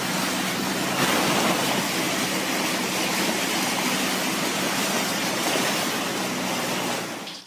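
Hail-laden floodwater rushes down a street in Boise, Idaho, a loud, dense, continuous roar of torrenting water that stays constant before cutting off at the end.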